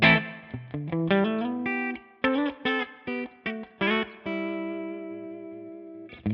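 Electric guitar with single-coil pickups on a Sir Classic T, played through a Bad Cat Cub amp capture in ToneX at low gain, on the bridge pickup: clean, slightly driven chords and notes in short bursts and sustained ringing, alone.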